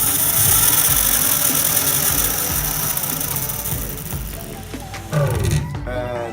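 A Space Scooter converted to electric power runs its small motor, a steady close whirring drone with road rumble that dips briefly, followed by a short voice near the end.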